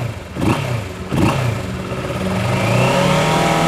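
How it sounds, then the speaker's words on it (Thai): A 2019 Kawasaki Versys 650 motorcycle with its stock exhaust revving up close, with two sharp throttle blips followed by a rising, held rev. "คันนี้มาพร้อมกับท่อเดิมมาฟังเสียงกันหน่อย"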